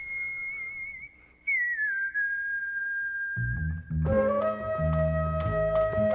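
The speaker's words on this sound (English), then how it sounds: "whistling a simple tune" A man whistles a few sustained, gliding notes, then music with several instruments enters and plays on alongside.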